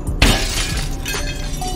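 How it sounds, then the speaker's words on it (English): A car window is smashed with a sturdy metal bar: one loud, sharp shatter of glass, followed by a short spray of tinkling, settling fragments. "you can get out of there smashing the window with these bars"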